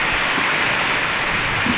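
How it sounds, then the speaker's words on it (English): Rain falls outside as a steady, dense hiss of drops, fairly loud and unbroken through the short stretch, with no talking. "Hey, Bill, it's raining."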